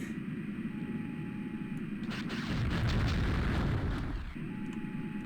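A rumbling explosion in a video game after a target is shot, a deep roar swelling over steady engine drone and then fading back.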